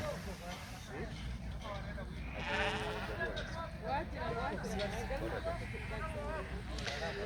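A sheep bleats repeatedly amid a noisy crowd at a Qurbani livestock market in Nairobi, Kenya, with people talking loudly around it and general outdoor bustle.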